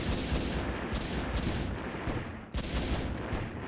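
Artillery fire from a battle in the strategy game Emperor of the Fading Suns rolls out as a dense barrage of loud booms and crackling blasts, several distinct volleys in quick succession, with no talk.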